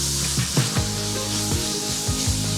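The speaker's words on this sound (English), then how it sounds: "I'm going to stir this around" Browned meat and Creole seasoning for turtle soup are stirred in a hot pot. Repeated scraping strokes rub against the pot under a constant close sizzle, with no talking.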